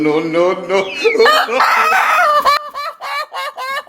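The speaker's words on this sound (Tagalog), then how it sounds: "Tumilaok yung manok" A rooster crows loudly and close by, a long drawn-out call followed by a few shorter clucking notes.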